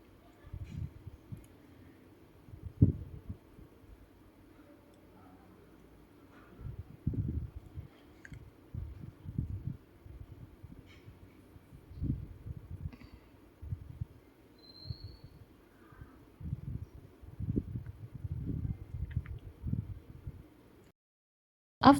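Scissors cut through a paper dress pattern along a dart leg, a string of soft, close snips and crunchy paper rustles in irregular bursts over a quiet background.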